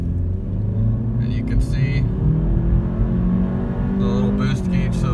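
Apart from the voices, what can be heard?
2018 Honda Civic Hatchback 1.5 turbo accelerating 0-60 mph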